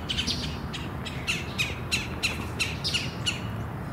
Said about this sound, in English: That looks like a woodpecker or something.